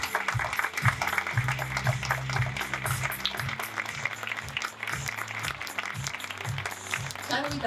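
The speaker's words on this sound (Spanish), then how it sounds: "Así que este aplauso es para él." Applause from the audience at the closing conference of a national education congress, a steady patter of clapping that runs throughout, mixed with talk and a pulsing low background sound.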